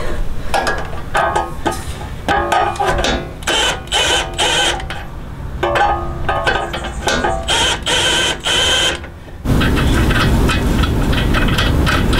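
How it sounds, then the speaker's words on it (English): A torque wrench tightening a tie rod on a first-generation Toyota Sequoia, with rapid, close ratcheting clicks in several bursts followed by a duller mechanical rumble, no talking. "tie rod gets torqued to 67 foot-pounds."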